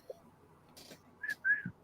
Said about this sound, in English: If you whistle at him, he'll whistle back